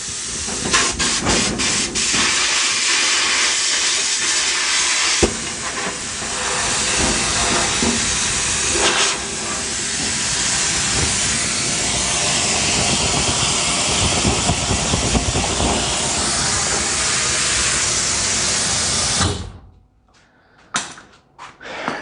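Walnut-shell abrasive blasting inside a sandblasting cabinet, a loud steady hiss of compressed air running nearly nonstop before cutting off abruptly near the end, followed by a few brief clunks.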